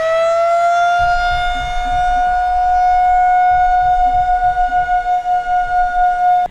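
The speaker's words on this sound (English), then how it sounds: "We also have tornado sirens, and they sound like this." A loud, steady wailing tornado siren holds a sustained tone throughout in Norman, Oklahoma, with low rumbling thumps underneath, sounding outdoors.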